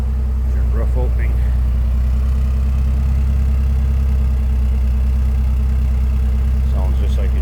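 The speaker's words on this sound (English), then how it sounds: "Sounds just like you'd expect out of a Porsche" A 1987 Porsche 924S idles steadily with a low, even engine drone running throughout, close and fairly loud, with a few brief voices and small clicks over the top.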